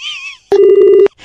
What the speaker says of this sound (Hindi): फोन काट दिया, फिर से लगाऊं या रहने दूं?